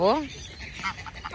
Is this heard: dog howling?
no